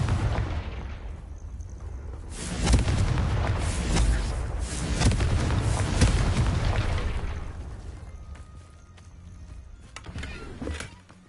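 Confringo blasting spells in Hogwarts Legacy set off a run of loud, rumbling explosions over several seconds, swelling and receding in waves before a last sharp burst near the end.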